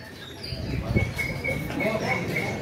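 A songbird sings in a series of thin, high whistling phrases at an HPBI bird-song contest, with a steady crowd murmur underneath throughout.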